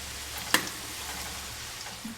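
Kadbu, sweet lentil-and-jaggery dumplings, deep frying in oil over low to medium heat, a soft steady sizzle with one sharp pop and a few faint crackles.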